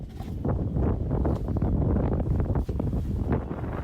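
Strong wind blows outdoors and buffets the microphone with a constant loud low rumble that gusts unevenly throughout.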